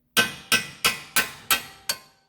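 Hammer striking a ball joint on a 2014 Chevrolet Trax during ball joint replacement: six sharp metallic blows at a steady pace, close and loud, each ringing briefly before fading.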